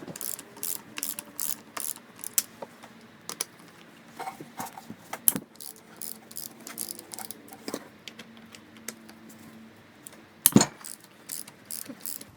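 A hand ratchet works the half-inch retainer bolts of an NP249 transfer case, a long run of quick, close metallic clicking in repeated bursts with brief pauses and occasional louder knocks.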